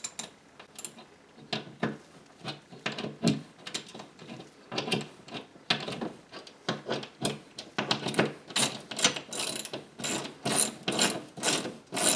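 A ratchet tightens a bolt on a TV wall mount bracket, its pawl clicking in repeated short bursts of swings, close and moderately loud, with no talk over it.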